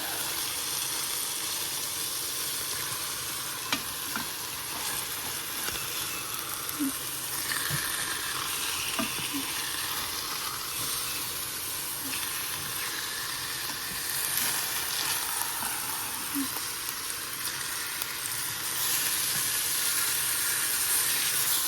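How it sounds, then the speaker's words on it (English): Chicken pieces sizzle in a hot pan while being sautéed with taco seasoning, a steady crackling hiss with scattered pops and spits, moderately quiet and continuous for the whole stretch, with no speech. "we are sauteing, getting these nice and sauteed up"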